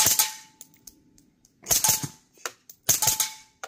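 Three sharp, suppressed shots from a B&T SPC9 SD 9mm carbine firing subsonic rounds, spaced about a second and a half apart, each a short crisp crack with a brief metallic action clatter and ring, close and loud with no talk.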